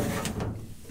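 An old welding cart drawer slides on rough, ungreased slides, giving a short scraping rub that fades within about half a second.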